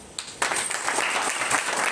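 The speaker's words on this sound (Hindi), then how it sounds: "अपने लिए ताली बजाइए।" Audience at a Hindi-language insurance training seminar breaks into loud, steady clapping after a brief quieter moment, the applause filling the room for the rest of the moment.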